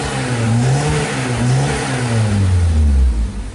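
A swapped engine in a Nissan Sunny revs in a few rising and falling surges, then climbs to a higher held pitch before dropping off, loud and close with no voices.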